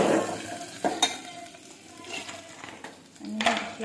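Potatoes with crushed peanuts are stirred in a frying pan, a close sizzle broken by scraping and clinking strokes of the utensil against the pan.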